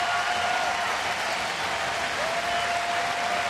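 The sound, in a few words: baseball crowd applauding pitcher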